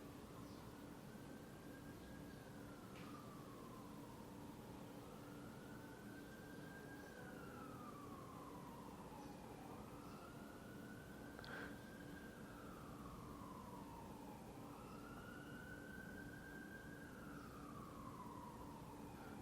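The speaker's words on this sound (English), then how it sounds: "just the ambulance" A faint, distant ambulance siren wails in slow, steady rising and falling sweeps over a hushed outdoor background of breeze, with the tone continuing throughout.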